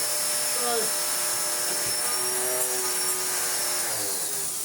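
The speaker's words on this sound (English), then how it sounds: "it's just so noisy. Let's not forget that its main problem is that it's a Hoover Pure Power. So it's upright." A Hoover Pure Power upright vacuum cleaner runs continuously with a loud, high-pitched motor whine and a broadband rush of air, steady and close throughout.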